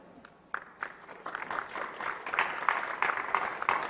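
Conference audience at a VMworld technical session clapping, starting sparse and growing into a steady, moderately loud round of applause from a crowd in a large hall.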